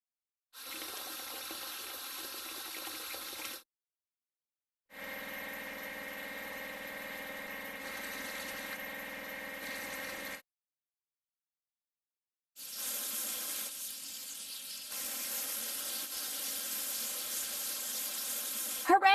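Water spraying to wash an excavator in a kids' car-washing game, three separate bursts of steady hissing spray with short silent gaps between them.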